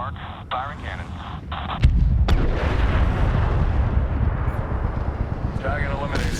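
Cannon fire in the Medal of Honor video game, a heavy sudden boom followed by a sustained loud rumbling roar of aircraft and blasts, with radio chatter before and after.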